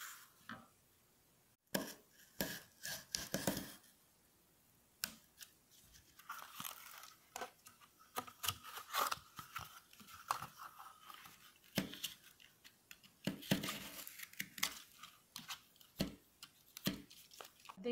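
Pieces of cardboard for a Christmas crib are cut with scissors in a series of crisp, close snips and crunches, irregular in rhythm with short pauses between cuts.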